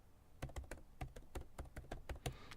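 Someone types an email address on a computer keyboard, producing a quick, close run of about a dozen crisp key taps at an uneven rhythm.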